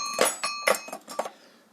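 A numbered bell, the seventh in a set, rung several times in quick succession, each bright metallic strike decaying briefly; close and fairly soft, with no talk.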